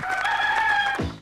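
Rooster crows loudly and close, one drawn-out cock-a-doodle-doo with harmonic tone that ends in a short, dropping cluck.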